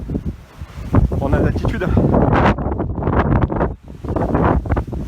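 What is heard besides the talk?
strong wind on a mountaintop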